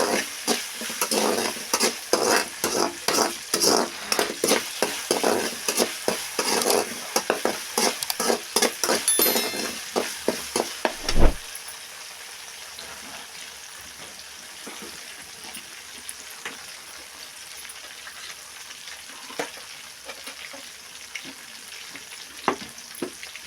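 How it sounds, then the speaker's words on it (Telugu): Ginger garlic paste fries in a pan, a spoon stirring in rapid rhythmic scrapes over a crackling sizzle for about ten seconds, then a clunk and a quieter, steady sizzle alone. "అల్లం వెల్లుల్లి పేస్ట్ అండి నేనైతే కొద్దిగా వేసుకున్నాను ఇది పచ్చి వాసన పోయేంత వరకు వేయాలండి బాగా"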